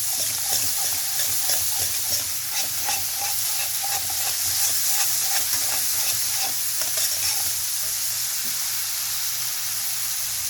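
Masala roasting (bhuna) in a pan for dhaba-style dahi bhindi, with a steady sizzle and frying hiss throughout and repeated scraping stir strokes, close and fairly loud, no talking.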